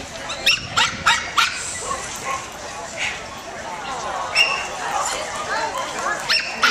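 Dog performing tricks at a Dogtoberfest pet talent contest, several short yips and barks scattered among crowd noise while an announcer talks over them.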